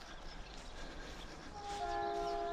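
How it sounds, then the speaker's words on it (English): A train rumbles past at a distance near lakes by a wildlife reserve, a low steady rolling noise that swells slightly louder toward the end, with a faint tonal horn-like note emerging. "Train."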